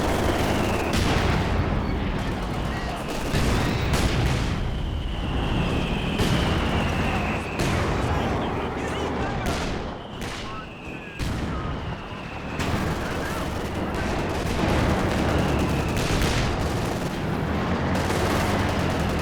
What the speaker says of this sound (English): Artillery flying through the center of the map.